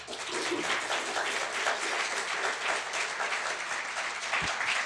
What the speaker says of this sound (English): Let's hear that thunderous applause for Dr. Beckwith.